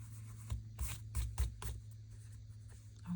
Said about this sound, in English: Just kind of rubbing that glue off.